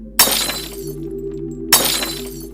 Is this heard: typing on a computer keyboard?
no